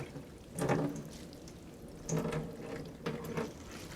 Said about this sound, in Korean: 찬물로 이렇게 한번 헹궈 주시고